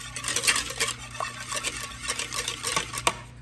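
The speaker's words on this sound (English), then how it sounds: "whisk those up a little bit. Break up your eggs, whisk that together with your butter." Two eggs being whisked with butter in a bowl for cornbread, a rapid, steady run of close clicking and tapping strokes of whisk against the bowl, brisk and even, with no talking.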